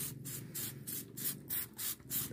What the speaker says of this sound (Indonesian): udah semprot aja bagian bawah daun ini juga yang ternyata bagian stomatanya